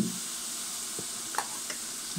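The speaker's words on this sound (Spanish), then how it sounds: "Una vez que la mantequilla se ha disuelto por completo, vamos a agregar un poco de cebolla" Diced onion sizzling in melted butter for a Spanish sauce, a steady broadband hiss with a few soft stirring clicks, close and alone with no voices.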